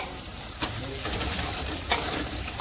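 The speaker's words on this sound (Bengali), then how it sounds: "মশলাটার সঙ্গে টক দইটা ভালো করে কষিয়ে নিতে হবে এভাবে নাড়াচাড়া দিয়ে নিতে হবে" Chicken with yogurt and spice masala being stirred in a pan, giving a steady sizzle with two sharper scrapes of the spoon standing out.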